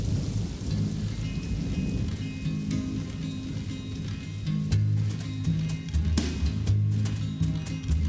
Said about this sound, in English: Sounds like a lot of raindrops.